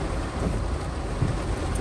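Heavy rain pours steadily during flooding in Lekki, Lagos, a dense, loud wash of noise with faint low rumbling that suggests distant thunder, no talking.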